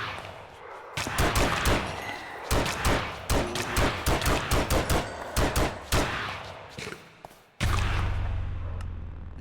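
Rapid bursts of gunfire from the cave horror shooter Cave Horror Project, dense volleys that stop abruptly as the magazine runs dry, then a steady low rumble continues to the end.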